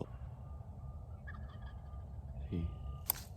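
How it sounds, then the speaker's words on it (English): A wild turkey gobbles out in the Michigan spring woods, a distant rattling burst standing out once or twice over a quiet, faint background. "I just heard off in the woods another gobble"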